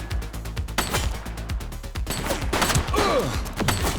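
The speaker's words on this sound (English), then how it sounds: "He's shooting!" A suspect fires a gun in the police game The Precinct: rapid sharp shots crackle close by in a dense burst, with mechanical clatter and a few metallic ringing tones.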